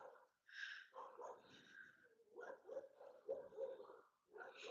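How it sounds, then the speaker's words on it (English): Several dogs indoors bark and yip repeatedly after a doorbell, bursts coming in quick clusters at moderate distance with brief pauses between, no talk over them. "I'm so sorry about the dogs."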